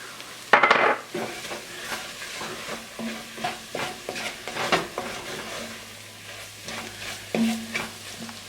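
Flour stirred into a hot pan for cream of asparagus soup: a spoon scrapes and knocks against the pan in an irregular rhythm over a soft, steady sizzle, with one loud clatter near the start and no talking.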